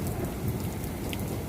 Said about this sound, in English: Oh man, that freaking rain came down on us.